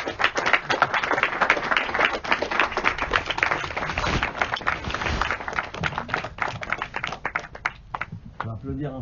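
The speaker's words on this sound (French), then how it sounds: "On va applaudir encore plus fort." An audience applauds during a film debate for Tori et Lokita, with dense, rapid clapping that carries on for several seconds before thinning out, and voices can be heard at the end.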